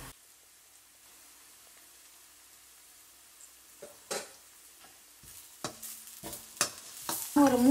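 Onions with curry leaves and salt being sautéed in a pan for a prawn gravy: a quiet sizzle, then a few sharp stirring scrapes and clatters that grow louder near the end.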